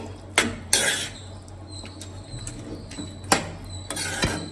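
A spoon stirs gongura dry prawn curry in a pan over a low flame. A few sharp, close metallic clinks and scrapes stand out against a quiet kitchen background.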